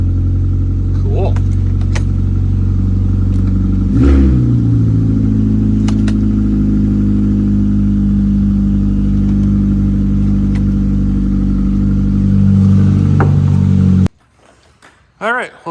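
A car engine idling steadily after being brought back to life, a deep low drone with a brief rev near the middle and small clicks and rattles, close and loud before cutting off near the end.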